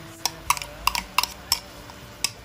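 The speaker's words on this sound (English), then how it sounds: "Mix it with the squid's heads." Chopped squid heads being stirred with recheado masala in a pan for Goan stuffed squid, sharp metallic clinks of a spoon against the pan repeating irregularly, about eight taps.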